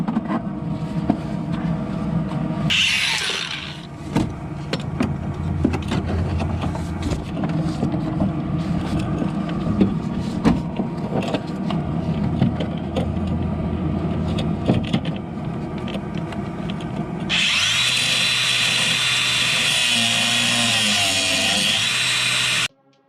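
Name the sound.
power tool grinding off Nissan sway bar link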